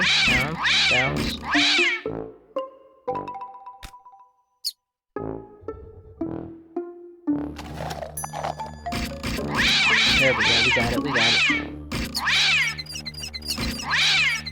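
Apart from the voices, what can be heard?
cat meowing in the video game Contraption Maker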